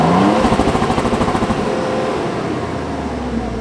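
Exhaust from a 2022 Toyota Tundra 1794 Edition pickup rumbles close by, a throaty engine note with a pulsing low drone that settles slightly as it runs steadily.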